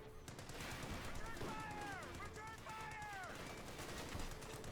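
Rapid bursts of small-arms and machine-gun fire in Company of Heroes 2, a WWII strategy game, crackle steadily through dense battle noise with an announcer talking over them.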